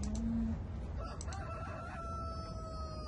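Farm chickens in Farming Simulator 2013 at a chicken incubator, with a rooster crowing once near the start, followed by chicken clucking and calls; a short, fairly close game sound with no talk.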